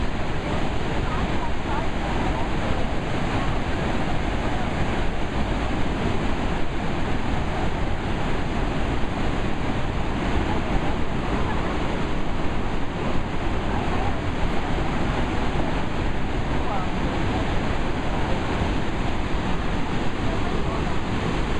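Shoshone Falls on the Snake River at Twin Falls, Idaho, a steady loud wall of rushing water with an even roar that never lets up, heard alone.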